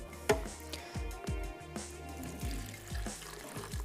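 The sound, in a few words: pouring water into lemon pickle mixture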